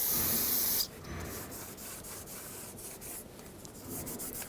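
A rag soaked in brake parts cleaner is wiped around the rear wheel hub surface of a 2009-2011 Ford F-150. A loud hissing burst comes first, then a steady, close scrubbing rub continues throughout.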